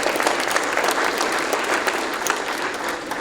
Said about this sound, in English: So give a round of applause for our new principal, Ms. Gerard